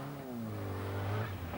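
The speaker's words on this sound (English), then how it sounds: "the little car never really stops. It just locks wheels and changes direction" A small car in a Northern Ireland classic autotest, engine revving steadily with a rising, sustained mid-pitched drone, heard alone and fairly close.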